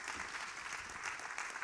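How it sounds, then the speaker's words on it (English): Audience applause at a workshop, a steady wash of clapping from many hands lasting under two seconds with no talk over it. "I think an applause again for Sylvie."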